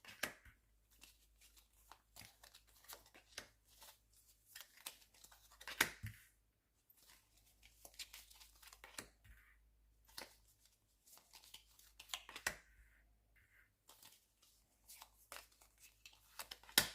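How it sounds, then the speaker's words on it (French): Tarot cards being shuffled and drawn for a nine-card spread from a deck of 77, with quiet, crisp riffles and soft card slaps scattered irregularly throughout, close up and alone. "on fait un petit tirage de 9 cartes"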